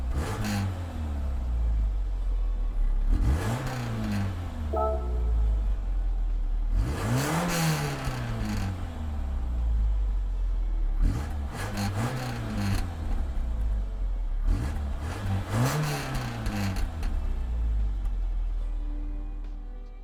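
A 1987 Citroen BX19 TRS with a 1.9-liter inline four in Gran Turismo 7 revs up repeatedly, engine pitch climbing and falling in four or five sweeping pulls over a steady idle drone, with no voices.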